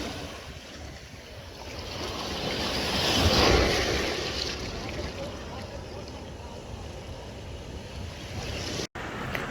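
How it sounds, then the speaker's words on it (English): Ocean surf on the west coast of Sri Lanka near Negombo, a continuous roar of breaking waves with wind buffeting the microphone, swelling mid-way, and a voice speaking over it. "Just beautiful ocean water."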